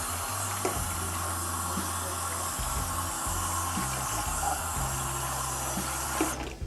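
Tap water runs steadily from a kitchen faucet, rinsing soap off a plate. Close and fairly loud, it hisses and splashes continuously with small clatters of the plate, then stops abruptly near the end.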